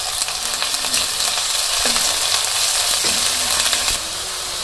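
Onion paste sizzles steadily in a hot pan with onion and green chilli, up close, with a few light clinks of a spoon mixed in. The frying noise drops slightly near the end.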